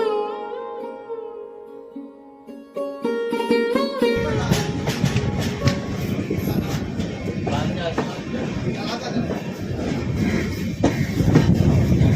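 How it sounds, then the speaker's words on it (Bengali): A passenger train pulls into Thakurganj station in Bihar after a long run from Sealdah, its loud, steady rumble and rattling carriages rising after a quieter opening with some tonal sounds. "এই মুহূর্তে আমাদের ট্রেন এসে পৌঁছছিল বিহারের ঠাকুরগঞ্জ স্টেশন"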